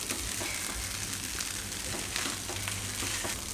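Banana poha frying in a pan, being gently turned from the bottom upward, gives a steady close sizzle with soft scraping stirs running under it throughout, and nobody speaks.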